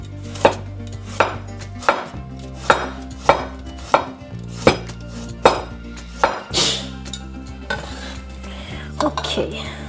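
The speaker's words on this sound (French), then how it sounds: "pour la carotte, je vais couper en tranches comme ça" A knife slices a carrot into thin rounds on a cutting board, about ten sharp, evenly spaced chops close by, with faint kitchen clatter and no clear speech.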